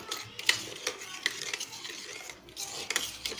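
A spice mixture of turmeric, salt and red chili is stirred and mixed, producing irregular scraping strokes and sharp clicking taps at close range, with a light background hiss and no speech.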